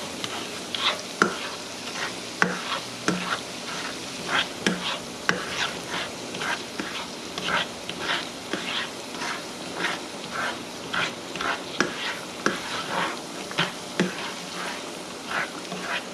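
Onions cooking in a pan beside a pot of shawarma rice, giving a steady sizzle under repeated scraping stirs and clinks at close range, with no talk.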